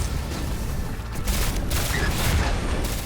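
Dense gunfire and booming blasts during a Destiny 2 strike against Vex enemies, a continuous loud barrage of overlapping shots and rumbling impacts.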